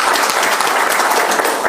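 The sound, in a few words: applause for award winners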